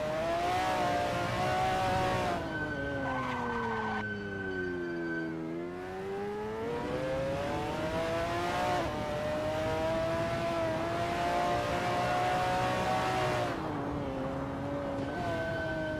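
Simulated McLaren F1 GTR lapping Sonoma in a racing game: a loud engine whine rises through the gears, dips under braking around a corner, then builds again steadily, with no talking.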